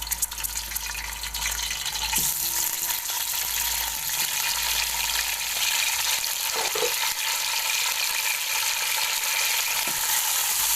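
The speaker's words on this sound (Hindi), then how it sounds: "अब इसको मैं भून कर इसका कलर चेंज करने तक इसको मैं भून लूँगी" Beef, a kilo of meat, frying in a pot after browned onions were removed, a steady broad sizzle running throughout at close range with occasional stirring clinks and scrapes, no voices.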